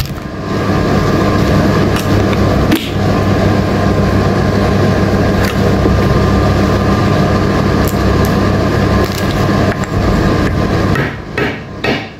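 Steady loud mechanical clatter with repeated sharp knocks as a pulley is hammered into a Samsung dryer during a fan belt repair, a metallic hammering texture running continuously, then easing near the end.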